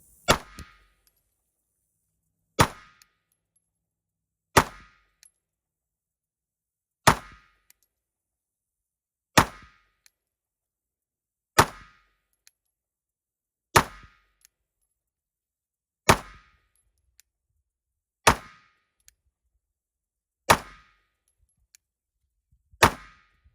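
Ten shots from a 9mm pistol firing Winchester NATO rounds, each a sharp distant crack followed by silence, spaced about two seconds apart at a steady pace, with faint small clinks in between.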